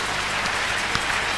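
A church congregation applauds, making dense, continuous clapping that sounds like a steady patter of rain and lasts the whole moment, with no voices over it.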